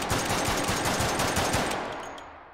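Rapid automatic bursts from a cyber pistol in the VR shooter Hot Dogs, Horseshoes & Hand Grenades, a dense crackling stream of shots, loud and close, fading out at the end.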